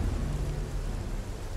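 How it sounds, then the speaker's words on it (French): In Project Zomboid, rain falls with a deep rolling rumble of thunder underneath, a steady low roar lasting a moment with no speech. "t'arrêtes pas de pleuvoir"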